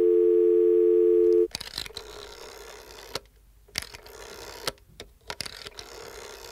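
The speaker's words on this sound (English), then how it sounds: "Let's call James Cameron." A steady telephone dial tone sounds alone for about a second and a half while a call is placed to New Zealand, then cuts off into quieter line noise with faint clicks.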